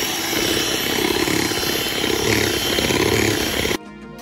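An electric hand mixer whirs steadily, beating red velvet cake batter with added lemon-soured milk, a continuous close buzz that stops abruptly near the end, no talking.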